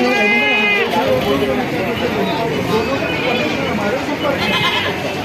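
Goats bleat loudly at a crowded goat market, with a wavering cry at the start and another near the end. The calls sit over a constant hubbub of people talking and moving around.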